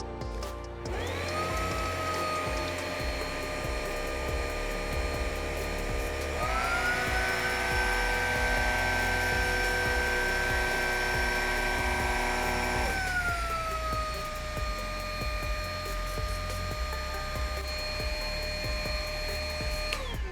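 A Riccar cordless upright vacuum cleaner runs steadily and loudly throughout, its motor whine stepping up in pitch partway through as it shifts to a higher setting, then dropping back down near the end.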